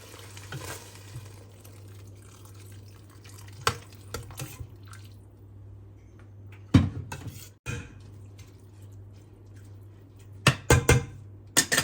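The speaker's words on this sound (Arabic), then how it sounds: "هاي هسه راح اضيف له المي." Water is poured into a pot of rice, with close splashes and clatters in irregular bursts over a steady low hum from the kitchen.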